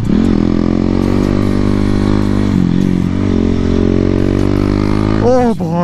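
Motorcycle ridden on mountain roads near Dehradun, its engine note loud and close with steady harmonic drone, shifting pitch as it revs and eases, plus wind noise and a rider talking.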